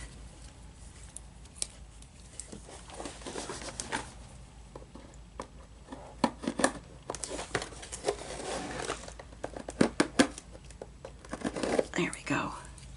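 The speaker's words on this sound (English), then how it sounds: "take our scissors," Scissors snip and crinkle through sealed box packaging in a quiet indoor setting, producing soft, irregular cuts and rustles, with some whispery handling noise in between.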